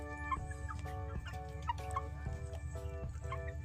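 Several chickens make short, repeated clucking and gobbling calls close by in a rural Philippine backyard, with a steady low hum running underneath.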